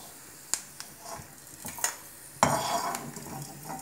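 Pirandai chutney ingredients with tamarind and lentils being sautéed in an iron pan, heard as scattered scrapes and clinks of a spatula against metal over a faint sizzle, with a louder stirring burst late in the clip and no talk.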